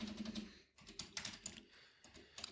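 Quiet, close clicking of fingers typing Python code on a computer keyboard, quick irregular bursts of keystrokes with short pauses.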